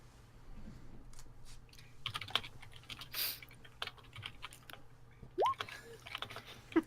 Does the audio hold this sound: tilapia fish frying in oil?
no